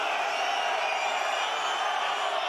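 A rugby crowd at a Pro D2 match between Vannes and Oyonnax, a steady, distant wash of voices calling out for a late hit, faint and continuous throughout.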